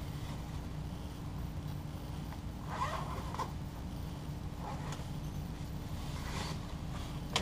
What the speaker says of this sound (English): let's see if we can convert them real quick. Oh, the zipper is red